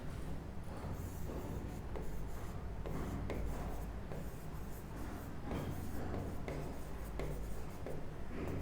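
Writing on a board during a maths lesson, a continuous quiet scratching of strokes with small taps and short pauses, close and alone with no talk.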